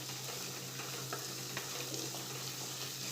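Garam masala stirred into a frying pan for dal fry: a quiet, steady sizzle with light scraping from the spoon and no voices.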